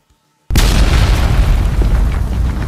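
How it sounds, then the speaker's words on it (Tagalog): A Dragon Ball energy attack, Vegeta's Final Slash, erupts into a sudden massive explosion after a brief silence, a loud roaring boom that rumbles on and slowly fades. "nirelease na nga ni Vegeta ang malakas na atake niya na tinatawag niyang Final Slash"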